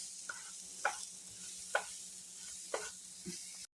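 Flour-coated mushrooms and vegetables are stirred in a pan for Salisbury hamburger steak, giving a few soft spoon scrapes over a faint, steady sizzle with a low hum underneath.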